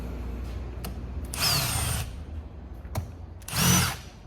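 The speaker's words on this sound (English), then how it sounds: "Get our screwdriver first, use a drill." Power drill removing screws from the main housing of a Titan Wagner paint sprayer, with two short whirring bursts separated by small clicks, close and moderately loud.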